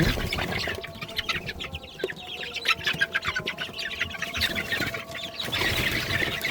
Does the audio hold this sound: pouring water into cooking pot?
no